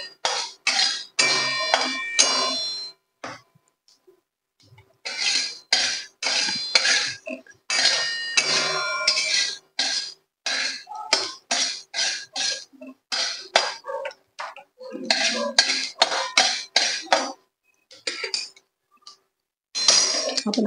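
Cumin and carom seeds are dry roasted in a pan, heard as a run of close, bright scraping and rattling bursts in irregular rhythm, with brief silent gaps between stirs.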